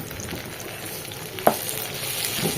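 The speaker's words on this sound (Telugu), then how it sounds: "ఆనియన్, కాజు అండ్ పచ్చిమిర్చి వేసి ఇట్లా ఫ్రై చేసిండే" Onion, cashew and green chilli frying in a pan, giving a steady soft sizzle with a single sharp clack of stirring midway, close and moderately loud, no voices.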